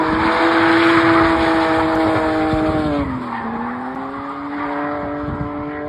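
A car drifts with long sustained tire squeal and a revving engine whose pitch dips midway and then climbs again, loud and close, with no voices.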